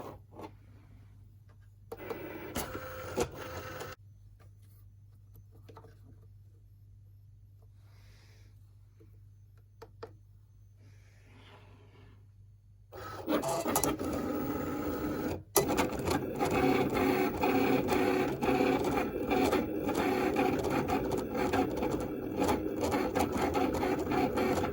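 A Cricut cutting machine slices vinyl on a mat: quiet low motor hum with faint shuffling at first, then a louder, steady whirring and scraping of the cutting carriage that continues to the end.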